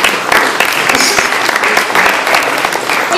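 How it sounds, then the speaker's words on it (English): Audience applause after a stage magic act at San Jacinto College South, a dense, steady wash of many hands clapping that holds at full strength for the whole stretch. "Give those folks a big round of applause."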